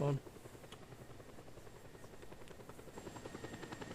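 A helicopter flying nearby in Just Cause 2, a steady rapid rotor chop with a whirring engine tone, loud and continuous after a brief louder burst at the start, rising slightly toward the end.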